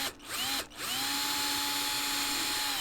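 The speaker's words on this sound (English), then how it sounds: "We're just gonna drill right into the 8 holes on the board." A 1.5mm bit drills holes into a fingerboard deck, giving a steady, loud motor whine that briefly dips twice near the start and then holds an even pitch throughout.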